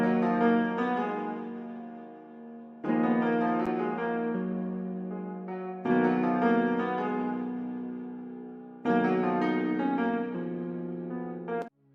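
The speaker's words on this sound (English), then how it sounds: "Then I opened up Flex, and I got this Bright Humbucker AC15 guitar preset," Sustained guitar chords from a Bright Humbucker AC15 amp preset in Flex, played with a piano melody over a Memphis-style beat, sound in four long, evenly spaced strummed swells that ring out and slowly fade, with no talking.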